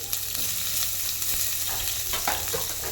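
Sliced onion sizzling steadily in hot oil with cumin, mustard seeds and crushed garlic, a close, continuous fry broken by a few soft stirring scrapes, with no voices.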